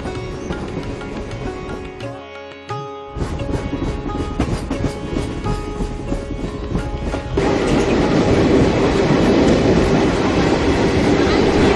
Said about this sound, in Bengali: গাড়ি চলতে লাগলো হ্রদের পাশ দিয়ে, কখনো বা জঙ্গলের মধ্য দিয়ে